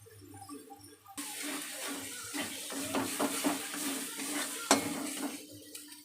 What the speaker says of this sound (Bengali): এইভাবে মশলাটাকে ভালোভাবে কষিয়ে নেব।